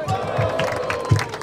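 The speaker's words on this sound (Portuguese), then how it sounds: "Barulho para as rimas de Luke!" A crowd at a rap battle cheers and claps during the voting, a short burst of mixed shouts and clapping with voices in the babble.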